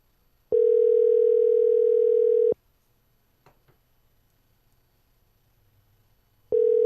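A telephone line tone heard during a phone call, a steady loud beep lasting two seconds, then a gap with faint background noise, then the same tone starting again.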